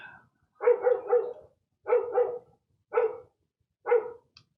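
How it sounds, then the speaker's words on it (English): A dog barks in four short bursts, some doubled, loud and close, with brief silences between them and no talk over it. "The dog is going crazy."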